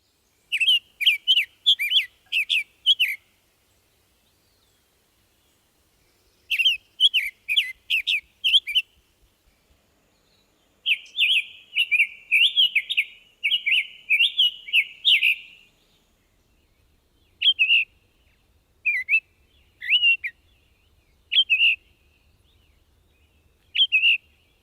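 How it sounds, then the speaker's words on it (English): Summer Tanager singing during spring in Missouri: bursts of clear, sweet phrases come first, followed later by sharper, clipped call notes in short separated groups, close and distinct against a quiet background. "Summer Tanager."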